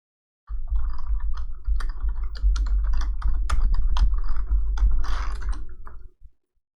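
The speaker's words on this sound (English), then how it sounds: "Type in hello again." Rapid clicking keystrokes on a computer keyboard, a close, busy run of taps lasting several seconds before stopping abruptly.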